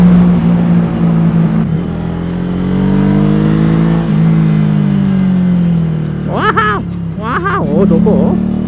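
A Ducati Hypermotard 796 motorcycle engine revs and climbs quickly, a loud steady drone rising and falling in pitch. Someone talks briefly over it near the end.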